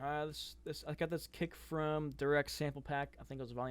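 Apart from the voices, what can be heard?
None of the usual background noises is heard.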